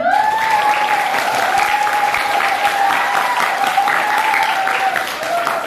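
A crowd breaks into sustained, even applause with a high whistling tone riding over the clapping, loud and continuous for several seconds before easing off.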